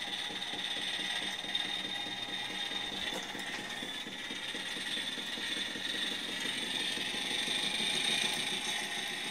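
A small steam engine running smoothly, with a steady rhythmic mechanical chuffing and clatter, a slight knock at the back bearing and a constant high whine, heard up close with no talking.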